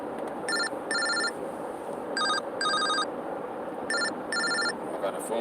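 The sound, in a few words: phone ringtone from incoming call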